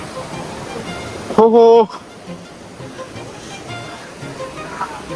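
A waterfall at the Bir Billing hill station in Himachal Pradesh gives a steady broad rushing roar throughout, briefly masked by a short loud burst, with a voice speaking faintly over the water.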